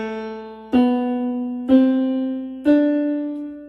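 Four sustained instrumental notes played one after another, each held full length and flowing into the next with no gap, a soft attack marking each change.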